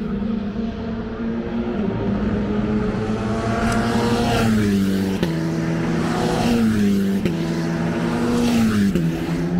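A small single-seater race car at Misano pulls away down the track, its high engine note rising and dropping through several gear changes, loud and steady with no talk.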